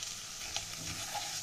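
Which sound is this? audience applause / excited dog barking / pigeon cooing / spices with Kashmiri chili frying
spices with Kashmiri chili frying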